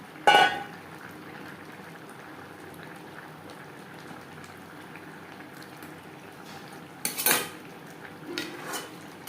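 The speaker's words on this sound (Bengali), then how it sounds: "এই পর্যায়ে দিয়ে দেব ভেজে রাখা মাছ ও মাছের মাথা" Fried rohu fish and fish heads going into a simmering bottle gourd curry, with sharp metal clatters of utensils at the start and again later over a quiet bubbling background, no speech.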